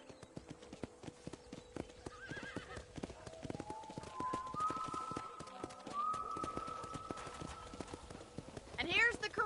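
Steady clip-clop of horse hooves while riding in Red Dead Redemption, rhythmic and close, with a whinny and game dialogue voices talking over the trotting.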